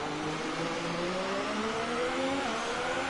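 A McLaren Formula 1 car in the F1 2018 racing game at the Belgian circuit, a rising multi-harmonic engine whine that climbs steadily in pitch, heard at a moderate level under constant engine noise with no talk.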